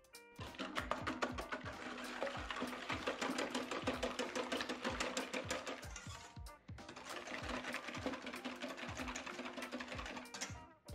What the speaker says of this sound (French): on va mélanger les œufs et le sucre